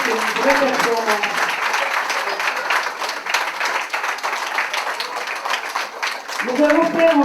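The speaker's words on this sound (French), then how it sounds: "Bravo, applaudissez-le très fort" Audience applause follows a singer's performance at an evening variety show in Condé-sur-l'Escaut, a steady dense clapping that runs throughout, with voices and some tonal sound at the start and end.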